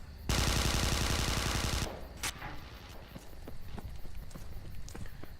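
A single long automatic burst of rapid gunfire in the multiplayer video game Interstellar Marines, loud and close, then cut off, followed by scattered fainter shots and footsteps.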